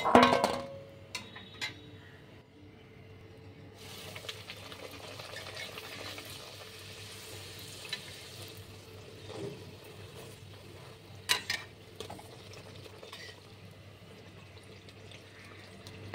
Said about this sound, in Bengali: এইভাবে সব কচুরিগুলো ভেজে নেব